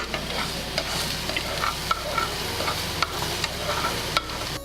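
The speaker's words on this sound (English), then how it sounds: "Continue to stir the mushrooms and the onions." Mushrooms and onions frying in a pan for spaghetti bolognese are stirred, with a close, steady sizzle punctuated by regular clicking and scraping of the utensil against the pan.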